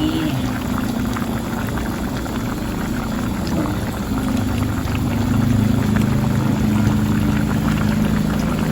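A pot of chicken feet bubbles at a steady, vigorous boil as oyster sauce is poured in, the liquid churning continuously with a slight swell in intensity toward the end.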